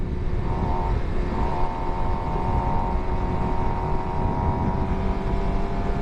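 A 2023 Suzuki GSX-R750 sport motorcycle under way, its engine holding a steady loud drone with a faint tonal whine, blended with heavy wind rush throughout and no pauses or talk.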